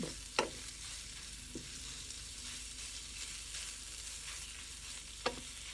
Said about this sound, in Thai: ผัดให้หมูสับมันสุกสักหน่อยหนึ่ง